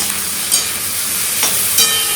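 Tomato, onion and other vegetables frying together in a pan give a loud, steady sizzle with a few brief bursts of stirring or hissing steam, close by.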